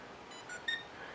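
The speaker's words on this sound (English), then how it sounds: "you can hear it beep, and now the blades are started" A couple of faint, high electronic beeps from a Kolibri XK2380 Torpedo mini drone starting up, over a quiet background hiss, brief and close together.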